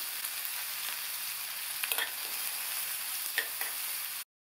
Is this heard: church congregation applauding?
no